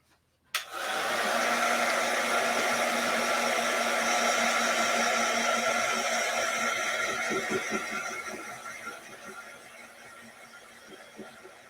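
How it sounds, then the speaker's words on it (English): Hair dryer blowing steadily on a handmade Christmas gnome craft's nose and hands, a loud continuous whoosh that switches on abruptly and runs close to the mic, easing off slightly near the end. "Let's dry the nose and the hands so that we can move on with the next step."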